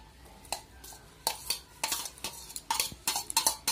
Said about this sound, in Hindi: अब मैं इसमें मिलाने वाली हूँ कटी हुई प्याज और हरी मिर्ची।